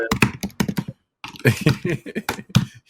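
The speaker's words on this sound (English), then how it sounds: "You're punching the keys with the mic." Rapid clicking keystrokes in uneven bursts, fairly close and loud, with a short pause in the middle before the typing resumes.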